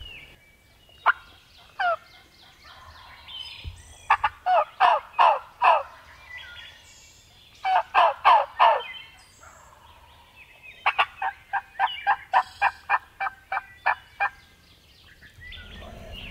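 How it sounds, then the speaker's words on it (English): A wild turkey gobbler gobbles in loud, rapid rattling bursts, several separate volleys of quick pulses repeating across the stretch, fairly close and clear with no talking over them. "He's gobbling really good."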